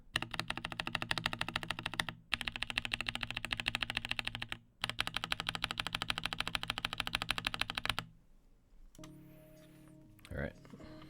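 Rapid, continuous typing on a mechanical keyboard with artisan keycaps gives dense, close clacking in long runs with two short breaks, then stops, leaving quieter handling sounds and a brief voice.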